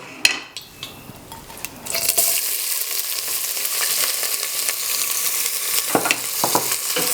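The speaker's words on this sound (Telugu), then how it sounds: "ఈ బే లీఫ్ వేసేసుకున్న తర్వాత దెన్ మనము ఆనియన్స్ వేసేసుకుందాము ఇప్పుడు" Onions drop into hot oil with bay leaves for methi chicken curry: a few clinks and clatters, then a loud, continuous broadband sizzle that holds steady with occasional pan knocks and scrapes.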